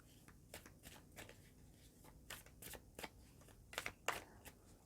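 Tarot-style animal spirit cards being shuffled up close, a quiet run of rapid riffling flicks and soft slaps in irregular bursts.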